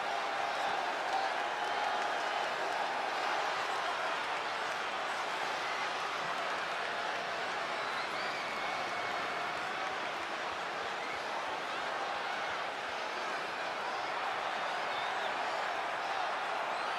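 In the WWE 2K20 wrestling game's arena, the crowd applauds and roars as a steady, dense wash of clapping and cheering, continuous and even in loudness throughout, with no break or buildup.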